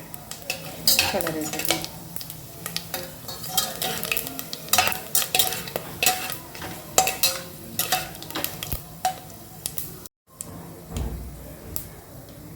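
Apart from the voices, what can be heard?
whole spices frying in hot oil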